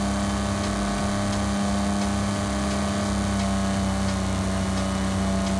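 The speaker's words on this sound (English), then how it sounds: "Listen to that engine purr." Car engine in the racing game Forza Horizon 5, a steady, loud droning hum held at constant pitch with faint rhythmic ticks, no talking over it.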